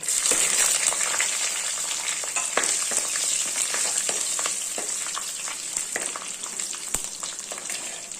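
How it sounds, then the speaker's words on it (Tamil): Garlic cloves, curry leaves and green chillies fry in hot oil after mustard seeds have popped, a loud steady sizzle with crackling pops running throughout, for a Tirunelveli-style fish curry. "இப்போ ஒரு பத்து பன்னெண்டு பூண்டு பல் கருவேப்பிலை பச்சை மிளகாய்"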